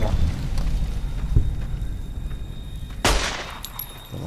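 Gunfire in the video game Fallout New Vegas: a dense, rumbling backdrop of distant shots, then one sharp loud crack near the end followed by a few fainter pops.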